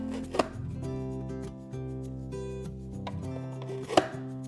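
Strawberries are cut with a stainless steel blade fruit cutter, giving two sharp, close chopping clicks over a steady background hum of music.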